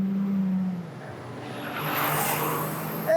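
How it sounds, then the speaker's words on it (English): A semi-truck blasting past on a road beside an electric rickshaw with a cargo trailer, a loud, broad rushing roar that rises and sweeps by up close. "And a semi-truck blasting by us."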